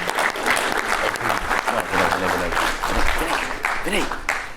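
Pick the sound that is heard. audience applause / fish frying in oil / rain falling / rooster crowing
audience applause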